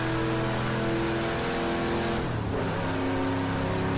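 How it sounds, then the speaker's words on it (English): A Camaro race car in Project Cars 2 holds a loud, sustained engine roar with strong steady harmonics, briefly dipping as it shifts or passes before climbing again, with no talking. "Just listen to that engine."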